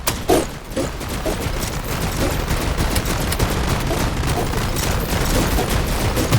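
Steady gunfire in the Tower Defense Simulator video game during Frost mode, a dense rapid rattle of shots that stays loud and continuous from start to finish.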